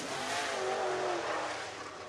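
A race car at Whynot Motorsports Park runs a qualifying lap, a loud, steady engine roar that holds on throughout, with a faint rising tone passing through the middle.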